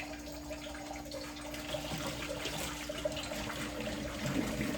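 Tap water runs steadily over a pan of freshly boiled eggs to cool them, giving a constant close rushing and splashing sound with small trickling variations throughout and no voices.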